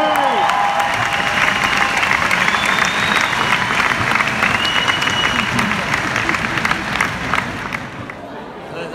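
Audience applause and cheering at a comedy show encore, a dense, steady wash of clapping with crowd cheers filling the room, tapering slightly near the end.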